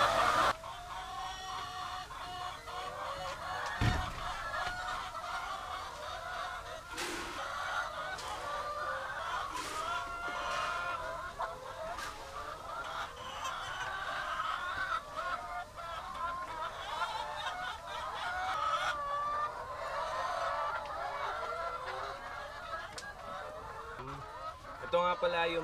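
Laying hens on a free-range poultry farm clucking and calling in a steady flock chatter, moderately close, with occasional louder squawks and a little talk.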